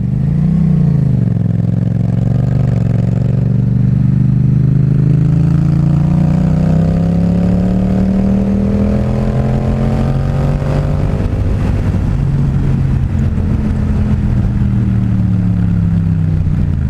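A 2016 Yamaha FZ-07 (MT-07) with a Two Brothers full exhaust pulls hard while being ridden, its loud close engine note rising and falling through the revs, with wind rush and no talking.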